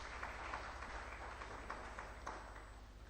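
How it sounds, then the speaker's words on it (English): Conference audience at a civil society gathering in Eastern Uganda applauding speakers, a steady, soft wash of many hands clapping at a distance, faint and continuous over low room hum. "loud clap for Ambrose and Monica for the recap?"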